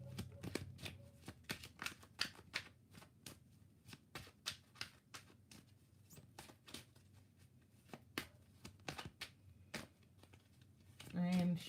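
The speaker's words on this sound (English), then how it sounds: "I am shuffling and clearing." Tarot cards being shuffled in repeated quick riffles and taps, crisp close bursts running steadily throughout, with a voice talking lightly underneath.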